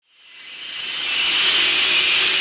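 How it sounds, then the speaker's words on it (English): A steam locomotive lets off steam in a loud, steady hiss that swells quickly from silence and holds at full strength. "And made a nice lot of steam."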